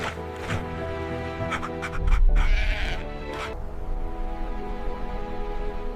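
Sheep bleat several times, in close, wavering cries, including a louder cluster in the middle, over a quiet outdoor background.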